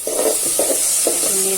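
Whole cinnamon and cardamom stirred in a hot pan while cooking goat trotters, a few soft scraping strokes over a steady background hiss, close and moderately loud.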